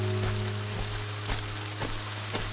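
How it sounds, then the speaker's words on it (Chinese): Steady rain from the video game Light and Night hisses evenly throughout, with faint scattered drops and a low sustained music drone underneath. "少爷，下雨了"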